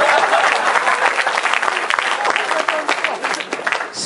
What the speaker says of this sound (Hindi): यार प्लीज तालियां यार।